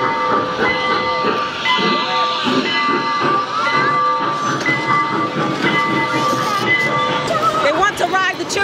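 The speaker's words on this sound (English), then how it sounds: "do you want to ride the choo-choo train?" A train rumbles and hisses with squealing, whistle-like tones rising and falling, while voices talk over the steady mechanical din.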